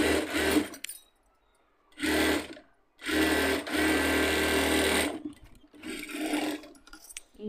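A sewing machine stitches the side seam of a blouse in loud close bursts of rapid whirring, stopping and restarting several times with short quiet gaps between runs.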